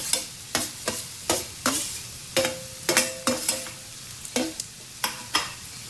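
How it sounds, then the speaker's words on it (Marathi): Jackfruit vegetable, Konkani style, being sautéed with onion and spices, a spoon scraping the pan in steady, regular strokes about every half second, loud and close over a low sizzle. "चला तर भाजी परतून घेऊया"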